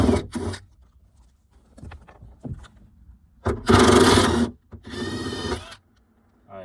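A power tool spins out 10 mm bolts on the license plate trim of a 2009–2014 Nissan Maxima, heard as short close whirring bursts separated by pauses and light clicks.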